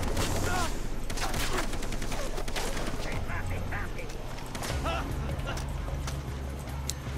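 Gunfire from the video game Far Cry 3, with dense bursts of rapid shots crackling through the opening seconds and continuing in clusters over a loud, busy game soundscape.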